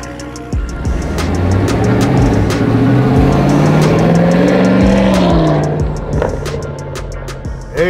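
Land Rover Defender restomod with an LT1 V8 engine drives along, its deep engine note loud and steady throughout, rising and sweeping in pitch as it accelerates, with faint ticks and rattles on top.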